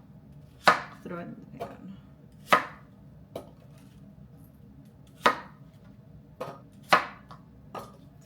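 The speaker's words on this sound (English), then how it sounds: "I'm just chopping the fourths into fourths." Knife chopping apples on a board: sharp, irregular thunks spaced about a second apart, near and clear, with a brief spoken phrase partway through.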